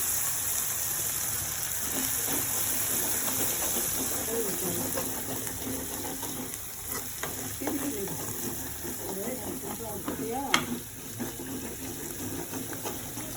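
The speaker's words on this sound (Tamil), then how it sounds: "Stir it." Food frying in a pan is stirred, giving a continuous sizzle with scraping clinks of a utensil against the pan, under intermittent talk in a home kitchen.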